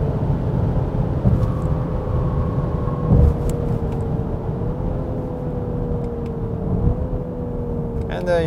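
Lincoln Aviator SUV with a 10-speed automatic accelerating, a steady engine drone with rising tones that step through gear changes, heard from inside the cabin beneath someone talking.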